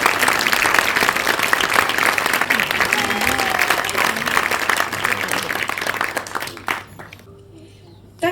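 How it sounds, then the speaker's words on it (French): A festival crowd claps and cheers for a long stretch of loud, dense applause that fades toward the end, with voices mixed in. "J'ai un motivateur que vous pouvez applaudir."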